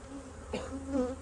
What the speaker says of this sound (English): these bees are kind of not happy right when I open them